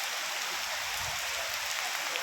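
Heavy rain pours down steadily at a heritage temple in Bali, Indonesia, a dense, even hiss of water close by with no pauses.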